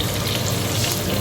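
Cempedak fritters frying in hot oil, a steady dense sizzle and crackle held at even loudness throughout, close and alone with no voices.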